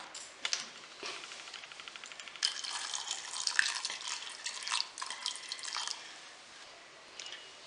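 Water trickles and splashes faintly into a pressure cooker, with scattered drips and light clinks, quiet and close.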